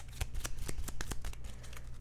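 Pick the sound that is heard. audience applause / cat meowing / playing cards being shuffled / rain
playing cards being shuffled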